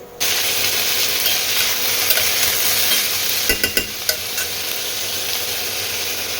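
Luchi frying in hot oil in a pan gives a loud, continuous, close sizzle, with a cluster of sharp pops and clicks midway and no talking.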